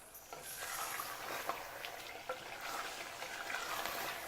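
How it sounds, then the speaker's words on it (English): Mutton pieces sautéing in oil for a desi korma, a soft continuous sizzle with scattered faint pops and crackles. "the meat to kind of fry in a way, saute really well"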